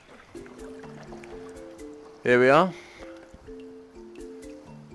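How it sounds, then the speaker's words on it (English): Water drips in a cave in a PSVR2 game, sparse soft plinks over a gentle tonal soundtrack, broken by a brief loud splashing swell midway, while a voice speaks briefly at the start. "This sound design of the water dripping down."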